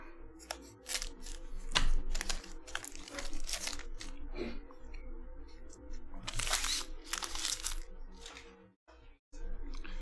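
Panini Legacy football hobby packs torn open in quick succession, with dense crinkling and sharp ripping of foil wrappers close by, bursts of tearing repeating across the stretch and a brief pause near the end.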